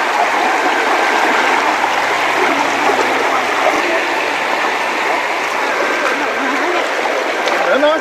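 A river rushes steadily beside a Shiva temple set high in the mountains, a loud continuous wash of flowing water with faint voices under it.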